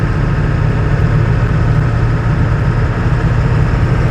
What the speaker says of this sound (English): Coal Cracker, you rode in this truck. You know what it sounds like